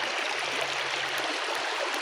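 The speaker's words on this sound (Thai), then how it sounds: "ตักน้ำไปพร้อมพี่น้อง" Water pours steadily in a continuous rushing stream at a rural village, scooped for morning bathing; the sound holds even and close throughout with no voices.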